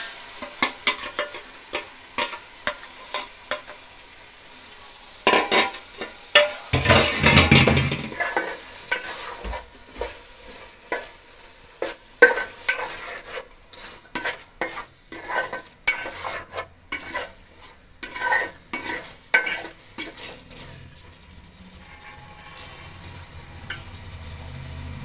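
Marinated chicken coated in turmeric, chili powder, lemon juice and salt for chicken dum biryani sizzles in a pot while being stirred, with loud irregular scraping and clattering bursts over a steady frying hiss and no talking.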